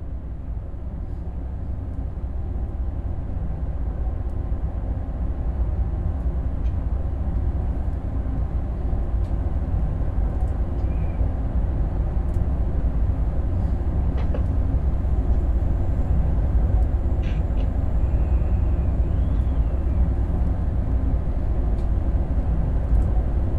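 An ICE 3 high-speed train running on the left Rhine line in Train Sim World 4, a steady loud low rumble of wheels and motors with faint high tones, no talking.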